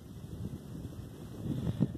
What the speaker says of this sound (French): Il n'y a pas un bruit à part celui du vent.